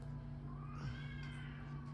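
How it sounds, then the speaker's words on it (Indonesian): Cats fighting indoors, with drawn-out rising and falling yowls layered over a steady low electrical hum and room noise, the wailing close and continuous for the whole stretch. "Aku pernah ngerekam Batman berantem sama kucing lain"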